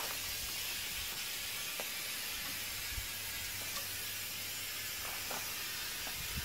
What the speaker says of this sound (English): And now I'm going to spray.